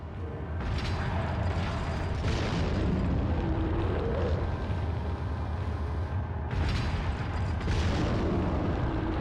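A grenade blast in Resident Evil 4 on PS2: loud rumbling booms and heavy mechanical clatter roll through the scene, with sharp bursts near the start and again late, no speech.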